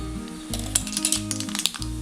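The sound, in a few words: mustard seeds added to hot oil, sizzling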